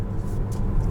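Mazda 2.5-liter turbo four-cylinder heard from inside a 2021 Mazda CX-9 Grand Touring while driving, a low steady engine rumble with road drone, brief and continuous.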